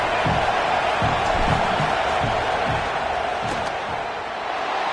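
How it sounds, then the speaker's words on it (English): Steady roar of a college football stadium crowd, Texas A&M versus Tennessee, during a fourth-down field goal attempt, a dense continuous wash of voices with faint scattered thumps, no clear speech. "This crowd trying to do its part to get inside the kicker's head."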